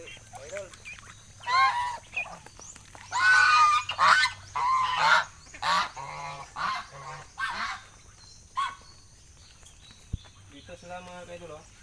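Geese on a farm honk in a series of loud, close bursts, mixed with other fowl and a few scattered calls, with a steady low hum underneath.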